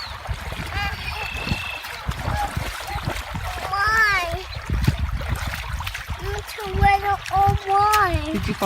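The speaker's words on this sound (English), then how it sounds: "Did you fall in the water?" Water splashes as someone falls in outdoors while out fishing, with a child and other people talking and exclaiming throughout over steady background noise.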